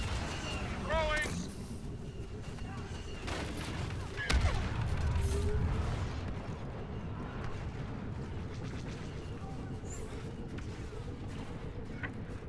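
Rebel blaster fire against an AT-AT walker during a snowy Hoth battle in Star Wars Battlefront, heard as a dense, continuous crackle of shots and distant booms under a steady roar, with a brief louder burst midway.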